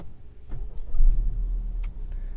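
A 2021 Honda Accord 2.0T Sport starts off with a low engine rumble swelling as it pulls away, close and moderate, with a couple of light clicks and a soft chime near the end.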